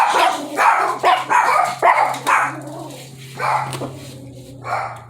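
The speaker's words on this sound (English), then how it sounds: "That was my dogs, if y'all wondering. I've got 3 Chihuahuas. They bark at a leaf blowing." Three Chihuahuas bark in quick, yappy bursts, several sharp barks in a row, then a pause and a couple more scattered yips, fairly close and loud indoors.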